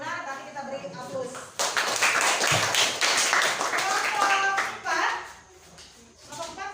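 Classroom applause for a student group's presentation, a burst of many hands clapping together for about three seconds, with a teacher speaking before and after.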